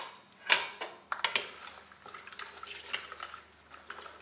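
Lamb's lettuce salad with flax seeds and sesame oil is tossed in a bowl, with soft scattered clinks, brief taps and light scraping of utensils, fairly quiet and close.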